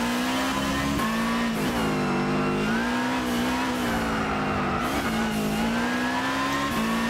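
Subaru Viziv GT hybrid race car in the Gran Turismo 6 video game, its engine droning loudly and continuously with repeated rises and falls in pitch as it shifts and revs.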